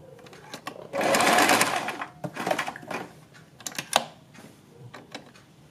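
Sewing machine stitching pleats on a frock suit in a close, quiet room. A loud, buzzing run of stitching lasts about a second, then short stop-start bursts and clicks follow.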